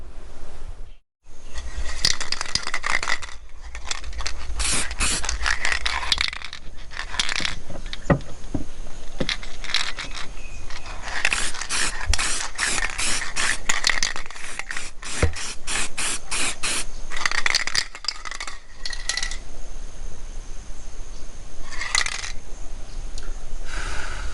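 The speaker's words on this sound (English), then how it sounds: "Let's get this tank and all the rest of the gear rubbed down in readiness for the spraying." Rubbing down a Keeway Superlight 200 motorcycle fuel tank before spraying: continuous scraping and sanding strokes, close and fairly loud, with rapid rhythmic bursts and brief pauses.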